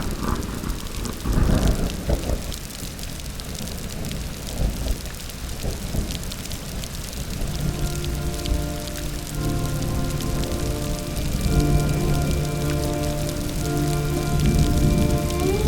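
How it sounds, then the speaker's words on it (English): Heavy rain pours onto the ornate roof of a dark mausoleum, with rolling thunder rumbling beneath a steady, dense hiss of drops that swells and continues throughout, close and enveloping. "rain beating down hard on its finely crafted roof, the sound hammering and echoing around the building"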